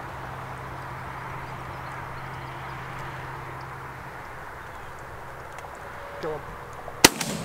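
Pigeon hunting in a rye field: a steady outdoor background hum gives way to one sharp, fairly loud shotgun report near the end, preceded by a faint knock.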